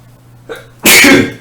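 A single loud, close sneeze, preceded by a brief sharp inhale, with nobody speaking.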